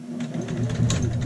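A sewing machine runs a short back stitch while sewing a child's shirt pocket, giving a steady close whirring hum with rapid needle ticking, with no talk over it.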